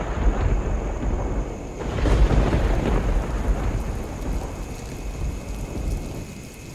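Heavy rain pours through the night in a dense, continuous downpour while deep rolling thunder swells beneath it. No voices are heard.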